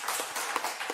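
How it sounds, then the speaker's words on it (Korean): A church congregation at a Sunday worship service claps together, a brief, dense burst of applause filling the room. "대단한 박수 한번 하겠습니다."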